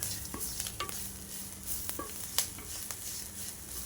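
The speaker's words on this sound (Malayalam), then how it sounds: "നന്നായി കുറേ സമയം ഇളക്കണം" Grated coconut roasts in a pan for chammanthi while being stirred, a quiet, continuous sizzle broken by scattered soft scrapes and clicks of the spoon, with no one talking.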